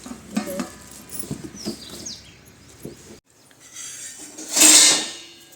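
A metal lid goes onto a cooking pot of chicken curry over a wood-fired clay stove on a farm, with a few close clinks and clatters, birds chirping around, and a brief loud hissing burst near the end.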